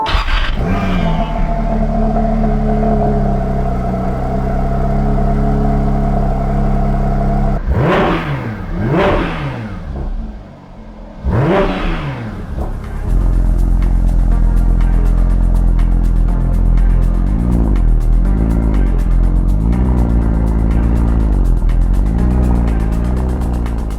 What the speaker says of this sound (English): First, let's go ahead and start her up.